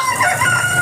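A fighting rooster held at a cockfighting arena raided by police lets out a brief, loud, close crow with a strained, wavering pitch.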